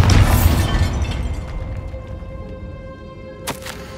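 A Bombarda spell explosion from Hogwarts Legacy bursts loud and close at the start, then rumbles down over several seconds, with a sharp smaller crack near the end.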